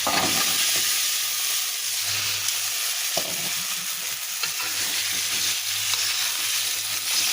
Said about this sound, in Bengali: এই যে আমার মশলাটা কষা হয়ে এসেছে এখন আমি কেটে রাখা আলুগুলো দিয়ে দেবো